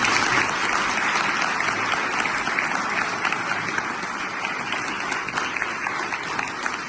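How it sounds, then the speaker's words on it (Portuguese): Congregation at a Catholic Mass in Santo Antônio parish church giving a sustained round of applause, dense and steady clapping from many people filling the whole stretch without a break. "mais uma vez uma nossa salva de palmas"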